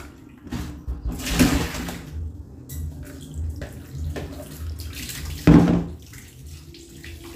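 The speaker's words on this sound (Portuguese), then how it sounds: "agora eu vou lavar o frango e colocar na água quente para poder temperar." Tap water runs in a kitchen sink while raw chicken is washed for a lunch of chicken with potatoes, a steady moderate stream with a louder splash burst near the end, no talking.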